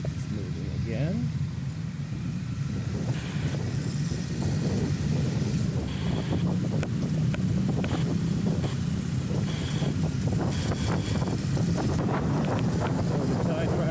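A motorboat engine drones steadily with water rushing and wind buffeting the microphone throughout, a continuous low rumble with no speech.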